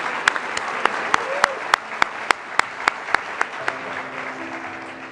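A graduation induction ceremony audience applauds enterprise and logistics engineering graduates: steady crowd clapping with a run of sharp, regular louder claps, fading into quieter murmur and a low hum near the end.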